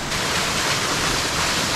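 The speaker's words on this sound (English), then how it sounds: "I'll show you the overflow water coming out of the pond." Storm water pours out of a full 6-inch overflow pipe draining a pond after a hurricane, a loud, steady broadband rush that holds without a break, like a small waterfall.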